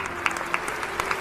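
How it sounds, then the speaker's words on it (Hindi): A seated audience at a spoken religious discourse claps in scattered bursts, with sharp individual claps rising out of a continuous patter that holds at a steady moderate level. "ये जितने लोग बैठे हैं इन सब ने ताली बजाई इस बात पर"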